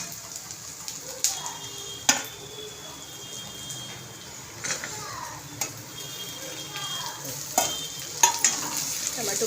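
Onions, tomatoes and spices frying in a pan for matki bhaji, a constant sizzle under sharp scraping strokes of a spoon at irregular intervals, close by, with faint talking.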